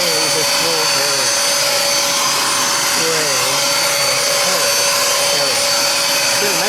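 Loud, steady whine of a Bissell SpotClean Pro carpet spot cleaner running continuously on a police interceptor seat, with a sustained high-pitched tone and broadband roar throughout.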